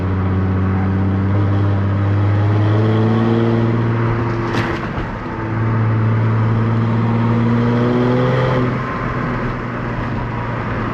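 Chrysler Crossfire SRT-6 engine revving, with a loud close rumble whose pitch climbs and drops across two separate rev cycles, plus a short sharp burst near the middle.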